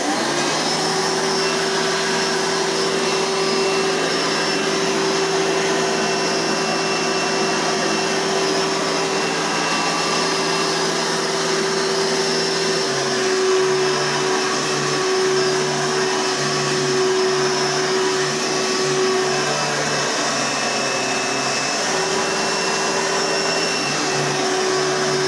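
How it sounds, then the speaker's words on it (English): A Hoover Elite 2 upright vacuum cleaner runs steadily and close by, with a smooth, constant motor whine. The pitch shifts slightly partway through, and there is no talking. "And now for the Hoover Elite 2."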